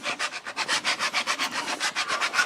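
A Dremel rotary tool tidying freshly cut lines in interior trim on a 2007 BMW E85 Z4 makes a steady run of rhythmic, rasping strokes, about six per second, close and fairly quiet with no talking.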